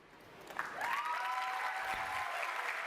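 A large audience applauds at the E3 2013 Xbox One reveal, the clapping swelling quickly into a steady, dense roar that carries on through the end, heard from within the hall with a faint tone running over it.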